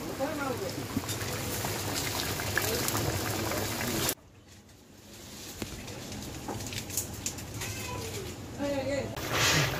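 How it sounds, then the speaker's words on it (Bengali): Rohu fish curry with ridge gourd boils in a pot at an outdoor village cooking spot, bubbling steadily with an abrupt drop partway through, while voices and birds sound in the background. "তরকারি ফুটে গেছে।"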